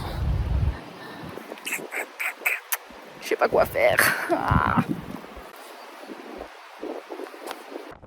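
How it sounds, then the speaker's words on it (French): Rain and gusty wind near Lac d'Alos during a mountain camping trip make a steady hiss and a low rumble of wind buffeting the microphone, while someone talks over them. "on n'entend rien de ce que je dis entre le vent et la pluie"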